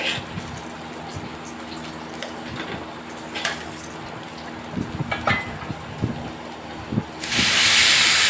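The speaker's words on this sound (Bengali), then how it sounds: "ওই কড়াইতেই অল্প সাদা তেল দিয়ে আমি পোলাও চাল কষিয়ে নিচ্ছি।" Polao rice sautéed in a little white oil in a kadai for chicken biryani: a steady hiss under scattered scraping stirs and clinks, ending in a louder rush of steam.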